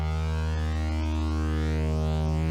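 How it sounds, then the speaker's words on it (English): Korg Modwave synth patch with chorus reduced to two voices, a steady sustained tone with rich stacked harmonics and a slight slow shimmer, held evenly throughout with no talk. "So you get this nice kind of chorus sound, but I'm gonna reduce it to only 2, so you just get a little bit of evolving sound."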